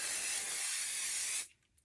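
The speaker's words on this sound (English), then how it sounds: "you're going to take your 505, you're going to pull back the batting, and I just spray the back." A short, close hiss of 505 temporary spray adhesive onto the back of quilt batting, one steady burst that cuts off, no voices.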